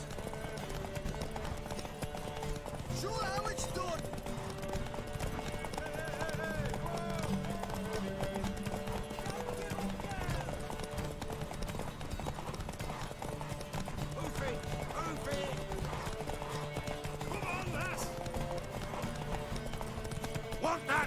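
Horse hooves clip-clop in a rapid galloping rhythm amid busy music and game effects in The Witcher 3: Wild Hunt, with occasional whinnies.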